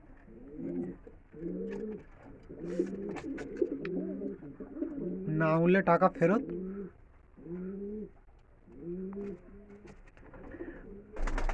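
A male and a female pigeon coo repeatedly in steady low rolling phrases close by, with someone speaking briefly over them and a sharper burst of calls midway.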